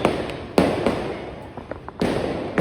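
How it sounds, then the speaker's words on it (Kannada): A snake firecracker set off outdoors for Diwali gives sharp, close pops and bursts, two of them loud, with softer hissing and small crackles between them. "ಈಗ ಸದ್ಯಕ್ಕೆ ಹೊಡಿತಿದ್ದೀವಿ ಸ್ನೇಕ್ ಪಟಾಕಿ"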